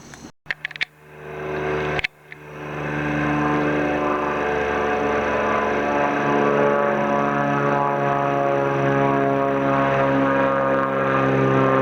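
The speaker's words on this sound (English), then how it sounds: "That last airplane was actually an airplane from Westchester County Airport with no destination." Airplane passing near LaGuardia, opening with a few sharp clicks and knocks, then a loud propeller-like roar building and holding steady close by for the rest of the clip.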